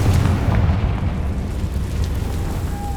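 Hogwarts Legacy Confringo spell blast, a deep rumbling boom with a sustained low roar fading through the clip, followed by a faint tonal whine.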